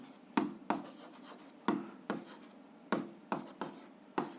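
Pen scratching on paper while an answer to a seventh-grade algebra exercise is written by hand, a series of short, close, quiet strokes with small gaps between words.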